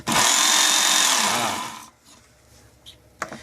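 WorkSharp KO knife sharpener running loud and close with a steady motor whine for about two seconds, then cutting off, leaving faint handling clicks.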